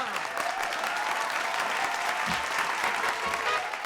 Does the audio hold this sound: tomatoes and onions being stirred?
no